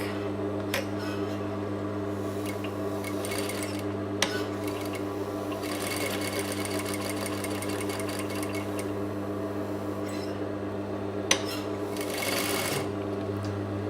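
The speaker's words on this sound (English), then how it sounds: "we're just going to sew, as I said, with about 5 or 6 centimetres gap in the centre" A sewing machine runs steadily, stitching a seam on a lined, rounded pocket with a short back tack, its even mechanical whir close and continuous with a couple of small clicks.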